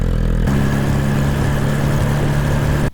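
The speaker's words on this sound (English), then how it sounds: "The sound quality is only a little bit louder, but a lot deeper, bassier tone." A Suzuki GSX-R1000R sportbike with a catless budget exhaust idles steadily close by, a deep, bassy, even rumble that holds for a few seconds and then cuts off.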